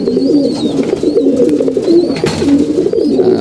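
Pigeons coo close by in repeated soft, throaty phrases, several birds overlapping in a continuous murmur, with a few higher chirps from chicks breaking through at intervals.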